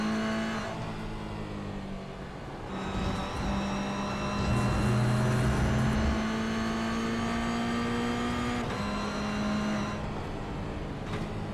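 Toyota GR86 race cars run bunched together near 150 km/h on a racing circuit in the GR86 cup, a loud sustained engine drone with rising and falling revs and overlapping car noise throughout.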